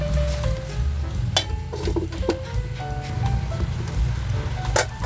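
Shrimp sizzle and fry in a covered pan, a steady crackling hiss with occasional soft clinks of the lid or utensils throughout.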